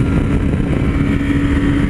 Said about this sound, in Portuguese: Vou acelerar um pouquinho mais aqui, só para ver qual que é o top dela.